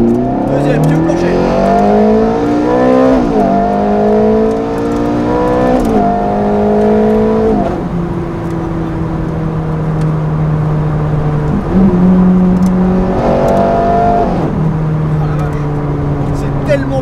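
A Ferrari 430 Scuderia engine accelerates hard through several gear shifts with the throttle floored, each rising whine cut by a shift, loud and close throughout.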